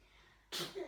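A single short, breathy sneeze bursts out suddenly after near silence, fairly close and loud.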